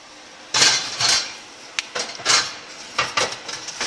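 A covered dish of braised beef ribs goes into a preheated oven: a series of close metallic clanks and knocks from the pot and oven rack, irregularly spaced, with a sharp tap in between.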